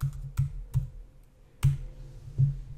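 Keystrokes on a computer keyboard while entering CSS code, a handful of separate taps spaced unevenly across a couple of seconds, close and fairly soft against a quiet background.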